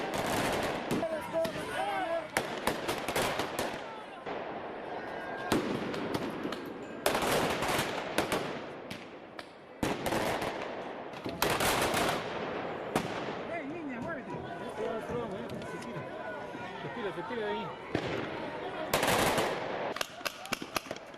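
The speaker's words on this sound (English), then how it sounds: "Oh my god, he got the paintball gun now." A paintball gun fires rapidly at a campus protest in bursts of sharp, cracking pops over about twenty seconds, with brief pauses and background voices and crowd noise beneath.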